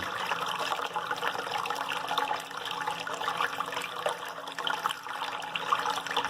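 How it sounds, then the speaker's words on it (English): A pump pushing water back through a hose into an aquarium, a steady rushing, splashing pour with a faint underlying hum, continuous and moderately close, with no talking. "just reconnect the hose, open up the taps, pumps the water back in like this"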